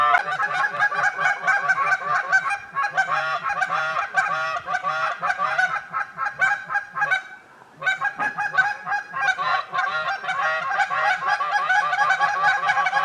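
A flock of geese honks continuously and loudly over a shallow river at a late-season hunt, many overlapping calls at once, with a brief dip in the clamor partway through.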